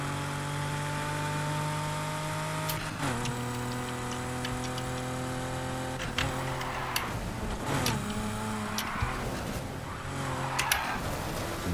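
BMW Z4 M40i sliding sideways through a drift in the racing game NFS Heat, its engine note holding steady harmonics that shift with each gear change and throttle lift, with sharp tyre and impact transients over a continuous loud drone.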